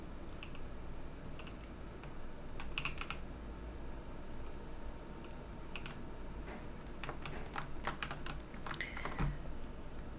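Computer keyboard keys are pressed during 3D modeling in Blender, with quiet, scattered clicks and short bursts of typing over a faint steady hum.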